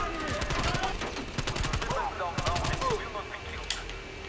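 AK-74U gunfire in the Call of Duty Black Ops Cold War campaign, repeated rapid bursts of automatic shots over game music and ambience, with a voice talking at moments.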